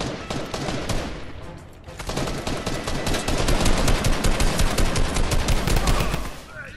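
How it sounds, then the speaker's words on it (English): Rapid automatic gunfire from a drum gun in Fortnite chapter 2 season 3, dense continuous bursts that are loud and close, with a brief dip before the firing resumes and carries through to the end. "Guess you got the drum gun, bro."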